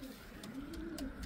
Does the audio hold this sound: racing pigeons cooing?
yes